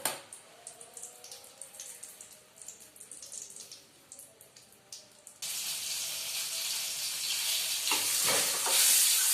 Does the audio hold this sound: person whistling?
no